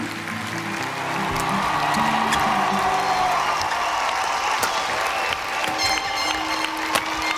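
Sports hall crowd of wild supporters at a badminton match: steady, dense applause and cheering that swells after a second and holds loud and continuous, with some faint mechanical tones underneath.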